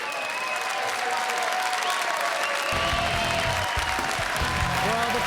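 Applause rolls through the crowd at a WPT poker final table, a dense clatter of clapping that swells partway through and keeps going steadily, with whistles and voices mixed into the noise.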